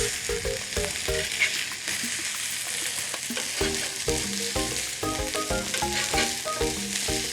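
Rissoles sizzle steadily on a hot barbecue plate, a dense continuous frying hiss with scattered clinks and scrapes of a utensil running throughout, fairly close and loud with no talking.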